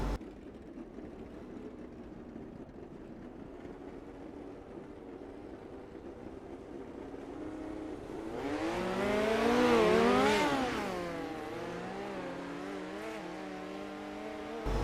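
Midget race cars roar around a dirt track, starting as a faint distant drone, then swelling into a louder rising and falling engine whine as the pack sweeps past midway before fading back, with no voices over it.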